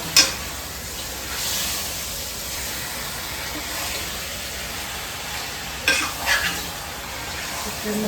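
Chicken and potato pieces frying in a pan with a steady, close sizzle, a few sharp clatters of a spoon stirring them near the end, with no talking.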